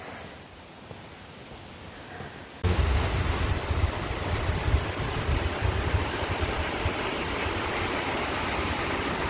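Fitzroy Falls waterfall flows with a broad, steady rushing roar, faint at first and then jumping sharply louder after a couple of seconds, continuing unbroken.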